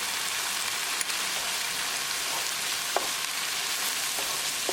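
Ground spices cook in tadka oil for a Malai Paneer recipe, giving a steady bright sizzle with a few soft clicks and stirring taps.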